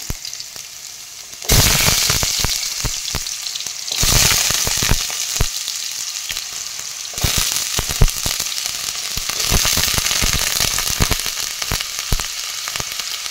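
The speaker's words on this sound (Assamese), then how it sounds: "তেলখিনি মোৰ গৰম হৈছে এয়া প্ৰথমতে আলুখিনি ফ্ৰাই কৰি লওঁ" Potatoes fry in hot oil in a kadai, a loud, steady sizzle with popping crackles that swells as pieces are stirred, continuing throughout.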